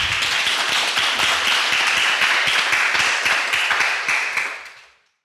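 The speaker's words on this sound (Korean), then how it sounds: "큰 박수 부탁드리겠습니다." Audience applause at a library archive agreement signing ceremony at Seoul National University, a dense steady wave of many hands clapping close by, holding evenly before tapering off to silence at the end.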